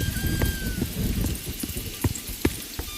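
Steady rain patters on a surface with scattered louder drops and splashes, a dense continuous wash of noise.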